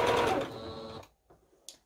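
A sewing machine stitches fabric for a collage roll in a fast, steady whir lasting about a second, then stops abruptly, followed by a couple of faint clicks.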